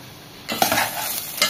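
Mutton is stir-fried in a pan for kasha, with a quiet start before bursts of spatula scraping and stirring rise over a soft sizzle.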